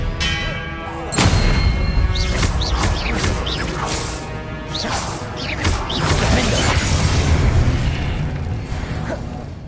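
Expelliarmus spell cast during combat in Hogwarts Legacy on PS5, loud booms, crashes and whooshing bursts in quick succession with no talking.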